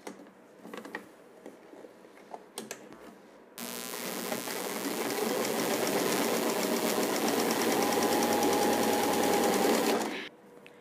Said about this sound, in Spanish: la vamos a pasar a la máquina porque la tenemos que voltear por el derecho